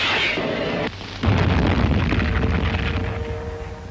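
Wartime rocket barrage striking landing beaches at Arawa, heavy booming blasts and rumbling detonations layered over a continuous roar, loud and close.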